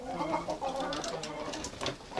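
Mixed-breed chickens, including a small speckled rooster and hens, cluck in a continuous low chatter of irregular calls at close range, with no talking over them.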